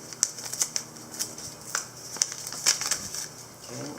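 Scissors snipping open a paper seed packet of Brandywine tomato seeds, a few crisp close cuts and rustles of paper over a quiet room.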